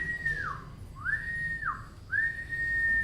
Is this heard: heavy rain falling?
no